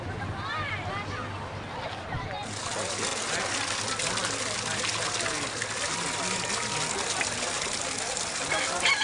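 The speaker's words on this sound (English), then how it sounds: "here we've got a bit of a water feature, and it's built on top of the rocket stove" Water trickles and splashes steadily from a garden water feature built on top of a rocket stove, the flow growing fuller after a couple of seconds, with a voice talking over it.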